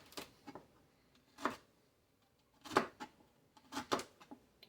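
Knife chopping fresh rhubarb stalks into pieces no more than half an inch thick for a strawberry rhubarb pie filling; a handful of sharp, separated cutting thuds spaced irregularly, close and moderately loud, with no talk.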